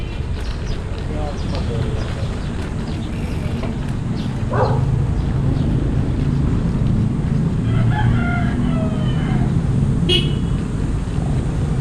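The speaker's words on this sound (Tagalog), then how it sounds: "May sasakyan." A motor vehicle passes on a steep, potholed road in Pansol, its low rumble swelling midway and holding steady, with a rooster crowing in the background.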